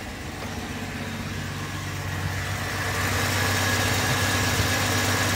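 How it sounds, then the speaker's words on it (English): A Chrysler slant six engine idles on its first start after 13 years, a steady, even purr with a faint mechanical hum, close and continuous, growing slightly louder toward the end. "Listen to that motor."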